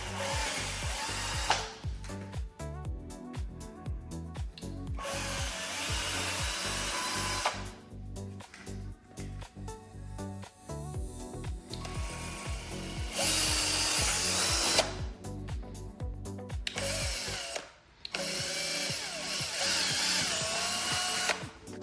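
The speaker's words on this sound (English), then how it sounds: "and I'll drill this out." A power drill whines in repeated bursts drilling holes to fit a front lip on a Hyundai Elantra N, revving up and cutting off several times with short pauses between, close and loud.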